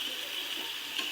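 Cauliflower frying and being stirred in a hot pan: a steady bright sizzle with soft scraping, close and continuous.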